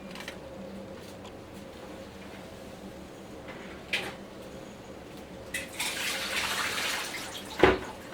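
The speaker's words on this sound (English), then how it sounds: "I'm just going to drain the Brussels sprouts and get this water boiling." Water from a pot of Brussels sprouts pours and splashes into a sink near the end, after quieter kitchen clatter and a few clinks, ending with a sharp metallic knock.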